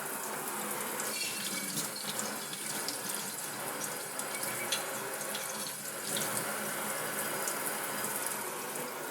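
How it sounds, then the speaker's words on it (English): Hot tap water runs steadily from a faucet into a sink, a continuous close hiss and splash with no pauses, rinsing a freshly anodized aluminum guitar part. "We're going to give that just a quick rinse in hot tap water."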